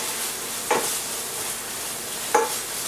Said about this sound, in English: And let it sizzle for a minute. That will deglaze your pan if you've not got a non-stick pan.